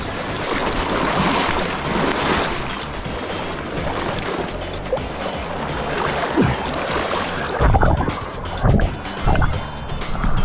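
Rushing river rapids churn loudly around a fishing boat as it comes in to land during a fly fishing trip, with a constant roar and sharper splashes and knocks near the end.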